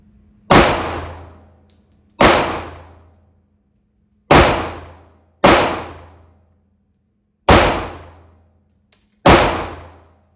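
Six loud, sharp shots from a Sig P365 AXG Legion pistol at an uneven pace, each a close crack with a ringing metallic tail and quiet gaps between, no voices.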